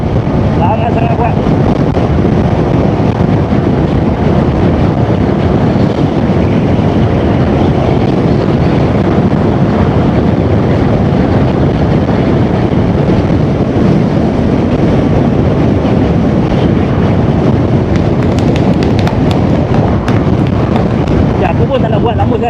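Strong wind roars steadily across the microphone while riding an Aveta Nova 200 motorcycle, a loud continuous buffeting rush with engine rumble beneath, lasting over twenty seconds without a break.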